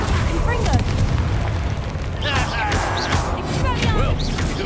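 A Confringo blasting spell explodes in Hogwarts Legacy with a loud, rumbling boom and crackling debris, mixed with game voices and effects that continue throughout.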